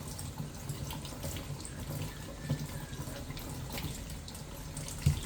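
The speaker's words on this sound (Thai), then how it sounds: "ต้องล้างฝักก่อนนะคะ ล้างให้สะอาดค่ะ" Tap water runs steadily into a sink while pega (Indian trumpet tree) pods are rinsed under it, with faint splashes and a few small knocks against the basin; no talking.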